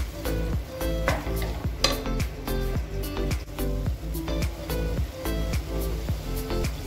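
Sliced onions with salt sauté in a pan, a busy sizzle under a steady rhythm of spatula scrapes and clanks against the metal, close and fairly loud.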